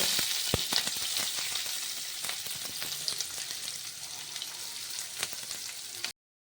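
Chopped onion fries in hot oil in a kadai, a steady close crackling sizzle with frequent sharp pops, running continuously until it cuts off abruptly.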